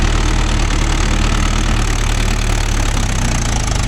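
A Mahindra Yuvo Tech Plus 585 4WD shuttle tractor engine runs steadily at close range, a loud, continuous low diesel rumble with a slight knocking texture and no talk over it.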